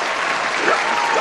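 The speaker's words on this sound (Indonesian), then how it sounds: "Tepuk tangannya terpaksa banget deh" A church congregation applauds during a healing sermon, a dense, steady wash of clapping for just over a second with no voices on top.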